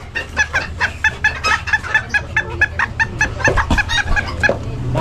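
Chickens cluck loudly and rapidly at an open-air pet market in Bocaue, a dense rhythmic run of close, sharp clucks with farmyard bustle beneath.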